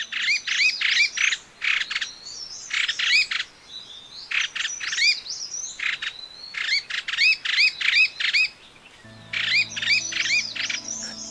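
A streaked laughing thrush calls repeatedly in Kumaon, loud, close bursts of rich whistled and chattering phrases in a steady rhythm, with a faint low hum joining near the end.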